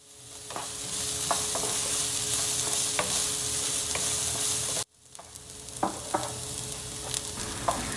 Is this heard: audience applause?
no